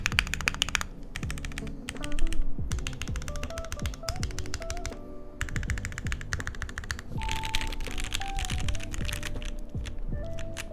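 Fast, steady typing on a Zoom75 EE mechanical keyboard, crisp close clacks in dense runs with occasional deeper spacebar thocks, loud and alone with no talk.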